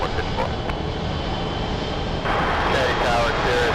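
An airliner rolls at JFK airport, a steady broadband engine roar with a louder, brighter surge partway through, heard alongside radio chatter.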